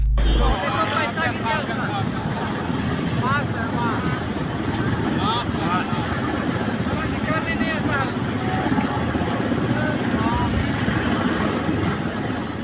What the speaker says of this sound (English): which was made worse by the swirling of the helicopter blades